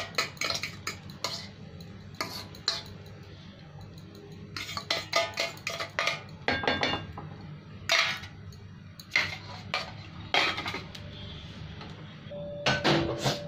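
A lid goes onto a frying pan holding an omelette over a low gas flame, among a busy run of sharp metallic clinks and clatters scattered throughout, with no talking.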